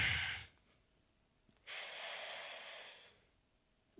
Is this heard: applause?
no